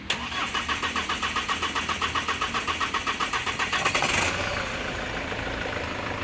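A Hyundai Starex CRDI diesel van cranks with a fast rhythmic starter chatter for about four seconds, then catches and settles into a steady idle, close and alone.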